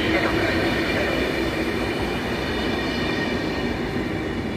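A PKP Intercity EP09-029 electric locomotive hauling the IC Koziołek train rolls into Poznań Główny station with a loud, steady rumble of wheels and carriages, faint squeals over the continuous roar, and no talking.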